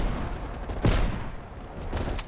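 Sniper rifle gunfire in Call of Duty: Black Ops Cold War, a single sharp shot ringing out amid a dense bed of battlefield noise and distant gunfire.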